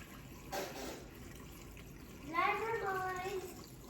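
Vinegar poured from a container for homemade hot sauce, a soft close trickle and splash rising and settling, with a voice speaking over it.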